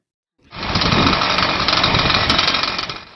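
A homemade airplane's small engine, in Kenya, roars to life and runs steadily at a loud, rattling, high-revving pitch, nearby and without letting up.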